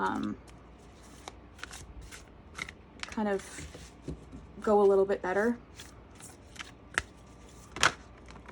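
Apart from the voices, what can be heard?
shuffling oracle cards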